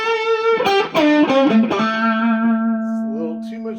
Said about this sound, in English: a little too much distortion, but I just roll back my guitar volume